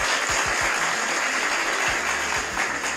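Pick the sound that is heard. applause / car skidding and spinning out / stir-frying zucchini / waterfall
applause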